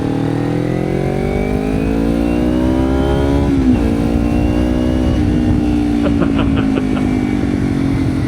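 Carbureted twin-cylinder Kawasaki Ninja 250 accelerating through the gears, a loud, close engine note rising in pitch with a brief dip at a shift, then climbing steadily again, no talking.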